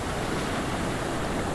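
Storm-driven ocean waves wash onto the beach during Tropical Storm Alex, a dense, steady roar of surf with wind rushing across the microphone, loud and unbroken, with no one speaking.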